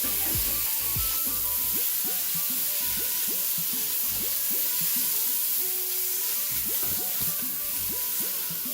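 Minced beef sizzles in a hot pan for Lebanese meat pies, a loud and continuous hiss with steady frying crackle that holds for several seconds.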